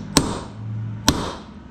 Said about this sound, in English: And we punch the holes where we actually want to drill the holes into.